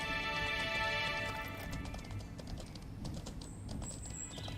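Hooves clip-clop in a steady galloping rhythm on a horse in Mortal Online 2, loud and close, with a brief whinny-like tone early on and faint game ambience beneath.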